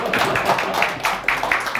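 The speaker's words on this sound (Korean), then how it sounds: "박수 한번 부탁드리겠습니다" Lecture audience at a talk on semiconductor manufacturing gives a brief round of applause, a quick sequence of distinct claps close by, fairly loud and lasting under two seconds.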